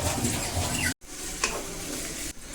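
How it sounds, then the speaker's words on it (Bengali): Chopped onions frying in hot white oil in a wok, a dense crackling sizzle close by, briefly cut off, then resuming with a spatula scrape and steady spitting. "এখন হচ্ছে দিয়ে দেব কিছুটা পেঁয়াজ কুচি"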